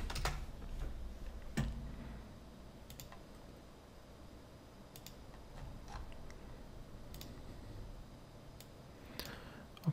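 Quiet computer keyboard typing a short word, scattered crisp key clicks at an irregular pace against a soft steady room hiss, close by.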